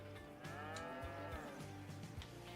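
Several cows moo in Farming Simulator 25, a run of low, drawn-out calls that overlap and repeat steadily, close and loud with no talk over them.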